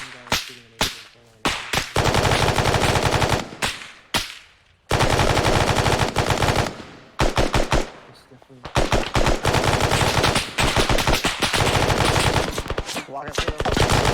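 A mounted machine gun in a position defense training drill fires loud, close bursts of rapid shots, some short and some sustained for several seconds, separated by brief gaps of quiet.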